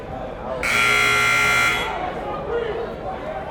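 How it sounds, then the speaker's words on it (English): A loud, harsh electronic buzzer blares for about a second over crowd noise at a high school basketball game in a gym, then fades back to the murmur of the crowd. "First buzzer sounds."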